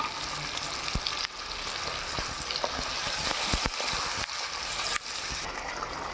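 Marinated mutton stir-fries in a pan, with a loud, dense, constant sizzle up close and a few sharp utensil scrapes and taps scattered through it, no voices.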